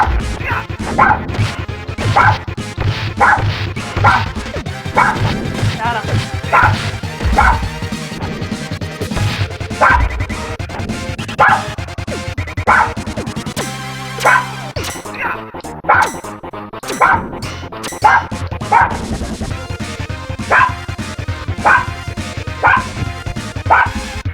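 A pet dog barks and yips repeatedly in a room during live play of Turtles in Time on the SNES, the sharp barks landing in a steady rhythm over loud, busy game music and effects.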